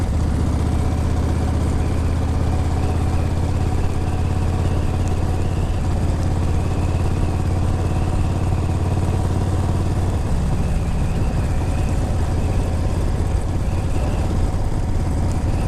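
A 2003 Exotic Chopper with an S&S motor roars steadily on a test ride, a loud, continuous engine rumble with wind noise and no talk.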